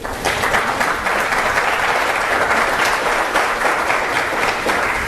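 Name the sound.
audience applause at budget town hall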